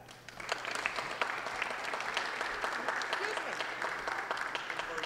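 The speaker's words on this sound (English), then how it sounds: "Please give a warm round of applause to our first guest" An audience claps steadily for a guest at a college event welcoming the Philadelphia Reign, the applause swelling after the first half second and holding dense and even, with a faint background voice underneath.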